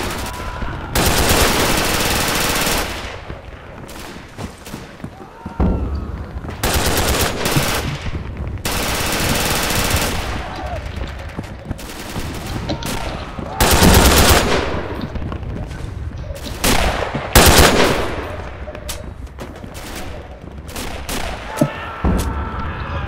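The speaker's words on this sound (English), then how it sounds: "this SMG recoils way too much" Submachine gun fire in the Pavlov shooter game comes in loud, rapid bursts and sustained strings of shots, separated by short lulls and spread across the whole stretch.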